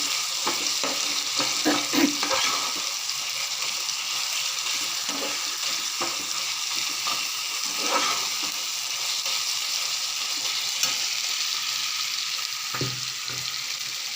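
Mutton coated in ginger garlic paste frying in a pan, a steady loud sizzle running throughout with occasional stirring scrapes and clicks, no talking.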